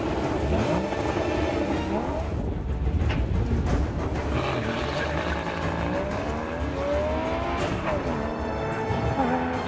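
A Porsche Boxster Spider lapping the Ferté-Gaucher race circuit, its engine note loud and continuous, rising and falling through repeated revs and gear changes.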